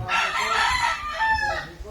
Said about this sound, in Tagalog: Ito guys yung mga manok namin guys.